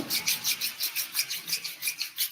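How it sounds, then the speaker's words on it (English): Palms rubbed briskly together during a guided relaxation exercise, a quiet rhythmic rasping swish repeating about eight times in two seconds, close and alone. "Rub your palms together"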